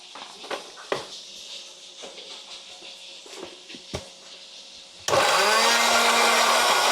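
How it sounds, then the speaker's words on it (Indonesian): A kitchen blender grinding shallots, salt, seasoning and oil kicks in abruptly after some quiet handling clatter, then runs as a loud, steady whirring roar to the end. "Kita blender."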